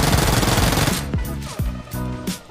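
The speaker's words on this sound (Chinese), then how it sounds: "冲锋枪虽好，就是子弹有点少。" A submachine gun fires in a battle royale video game: a dense loud burst of rapid shots at first, then several short separate bursts with clear gaps between them, close and dry.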